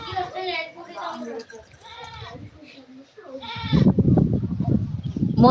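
A flock of about five hundred sheep bleats in overlapping calls, some near and some farther off, followed by a loud rumbling noise.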